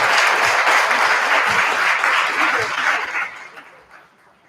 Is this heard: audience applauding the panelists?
yes